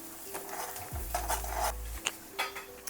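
Ghati masala, a garlic spice mix, being stirred and sautéed in a pan for a Sunday rawas fish fry, with a spatula scraping and clinking against the metal in irregular strokes over a faint low sizzle and a brief steady hum.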